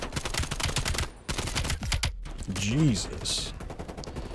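Rapid automatic gunfire in the Call of Duty Cold War campaign, dense overlapping bursts close and loud, with a player's brief exclamation and other game sounds mixed in.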